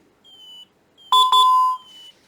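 Electronic beeping from an ADT alarm keypad as a sensor is tripped: two short high beeps followed by a longer sustained tone, with faint softer chirps before and after.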